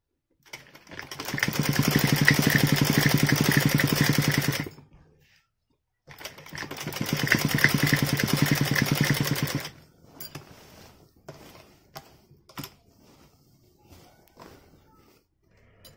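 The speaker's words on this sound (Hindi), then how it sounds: "इसलिए मैंने सोचा कि पहले आसन ही सिल देती हूँ।" Electric sewing machine stitching sari fabric close by, two bursts of fast, even whirring of about four seconds each separated by a pause, then quiet clicks and fabric handling.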